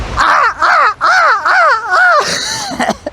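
A person on a beach loudly imitates a seagull cry with five rising-and-falling wailing calls in quick succession, close and strong, followed by a rougher, noisier squawk at the end.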